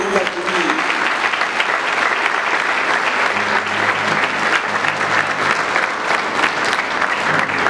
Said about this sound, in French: demander à tout le monde de vous applaudir